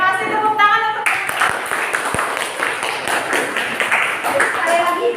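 After a voice, a classroom audience breaks into sustained applause, with rapid clapping that runs to the end of the clip and talk mixed in beneath it.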